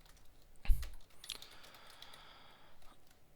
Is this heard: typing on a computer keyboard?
yes